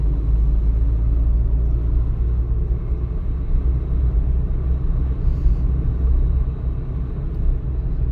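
Interior of a car driving straight on a town road during a driving lesson at around 30 km/h, a steady low engine and road rumble with no voices.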